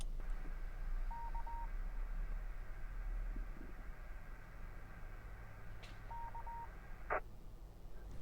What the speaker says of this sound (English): And that was the Richmond repeater in North Yorkshire.